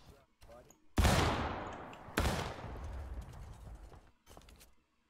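Musket volleys in the Civil War video game War of Rights: two loud crashing bursts of massed gunfire, each trailing off in a long rumble, then a fainter distant shot, with occasional quiet voices between.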